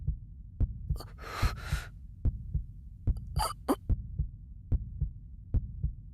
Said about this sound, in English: All I could hear was the sound of my own heartbeat.